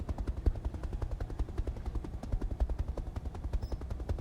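A rotary AC-5 autocannon fires in the RogueTech mech game as a rapid, steady stream of heavy shots that rattles on for about four seconds, loud and up close.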